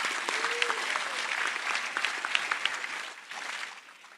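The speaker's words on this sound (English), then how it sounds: "Come on, one more round of applause." Audience applause at a DeKalb County Fire Rescue graduation ceremony for Class 117: a steady, dense round of clapping that fills the whole stretch and tapers slightly near the end, with a brief voice faintly underneath.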